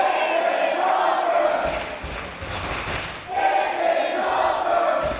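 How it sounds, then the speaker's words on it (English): A wrestling crowd in Canterbury chants loudly and rhythmically, a dense roar of many voices filling the hall with thuds and a surge of noise in the middle. "they are chanting, "This is awesome,""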